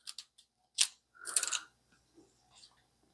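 Pruning shears or a knife cut into a clump of dahlia tubers, giving a few short, close crunchy snips and bites followed by scattered quieter handling noises, with no talking.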